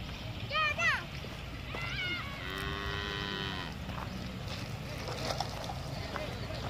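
A cow moos on a farm in long, drawn-out calls mixed with animal sounds and outdoor background noise. Nearby people talk in Spanish over it.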